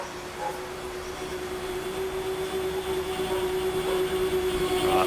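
Sidewinder RC plane engine droning high overhead on a windy day, a steady distant buzz with a constant tone that slowly swells a little louder, no voices.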